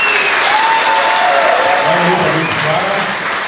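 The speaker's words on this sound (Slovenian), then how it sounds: "Aplavz, ki je namenjen tudi vsem vam" Concert audience applauding at an outdoor summer show at Tuštanj Castle, a dense steady wash of clapping that carries on throughout and eases slightly at the end, with a voice speaking faintly over it.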